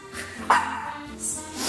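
A small dog gives a short bark amid light room noise, close and fairly loud, with a brief higher yip near the end.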